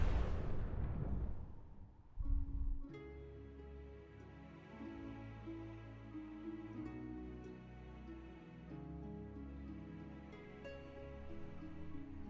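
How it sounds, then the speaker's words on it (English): A big explosion in a Final Fantasy XIV cutscene bursts loud and booming for about two seconds, then gives way to orchestral music that carries on steadily. "Big explosion."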